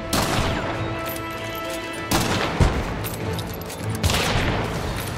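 Dense gunfire in the video game Hunt: Showdown, with explosive ammunition: a sustained loud fusillade of overlapping shots and booms, with sharper bursts standing out near the middle and end.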